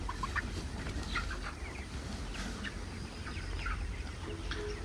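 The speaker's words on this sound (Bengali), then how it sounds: "দেখুন মুরগিগুলো" Faint, scattered clucks and calls from chickens at a poultry farm in Natore, soft and irregular over a low steady background hum.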